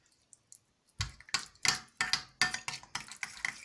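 A spoon scrapes and clinks rhythmically against a bowl while stirring a salad dressing made with apple cider vinegar, a series of quick strokes after a brief quiet start.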